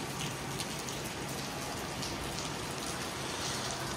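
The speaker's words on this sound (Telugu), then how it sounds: "వర్షం అయితే గట్టి కొడుతుంది" Heavy rain falling at night in China, a dense, even hiss of drops hitting surfaces nearby, steady and unbroken throughout with no voices.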